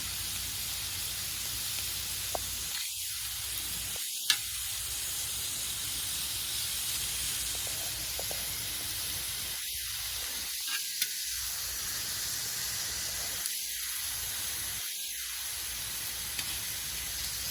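Chicken and vegetables sizzle on a hot outdoor Blackstone griddle, a steady bright hiss throughout, with a few scraping spatula strokes breaking in now and then.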